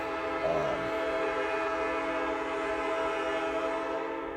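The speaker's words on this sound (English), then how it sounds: "Sorry for the train in the background." A train rolls past nearby with its horn blaring in a long, loud, sustained tone, a steady mechanical roar filling the whole stretch with no talking.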